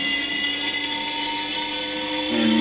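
A Siemens electric motor running unclamped on a bench from a DMOC 645 inverter at 256 volts produces a loud, steady high-pitched electric whine with constant tonal hum throughout.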